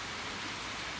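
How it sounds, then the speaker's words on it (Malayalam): Steady rain falling, a continuous even hiss of drops with no breaks or voices, fairly close and uniform throughout. "അതുകൊണ്ടാ മഴയത്ത് എങ്ങനെ പോവാ കുഞ്ഞപ്പോ?"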